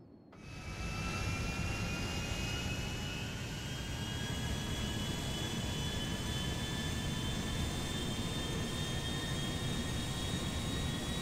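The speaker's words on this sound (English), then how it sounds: "the biggest airplane that you can fly in Grand Theft Auto 5. This is a passenger airplane" A large passenger airplane's jet engines in Grand Theft Auto 5 spool up into a steady, loud whine over a broad roaring hum that holds constant throughout, with no talk.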